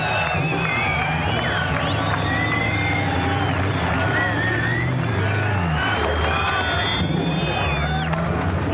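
A large motor-racing crowd at the Pukekohe V8 Supercars round cheers for driver Greg Murphy, a continuous loud roar of voices and whoops with engine and public-address noise mixed in and talk running over it.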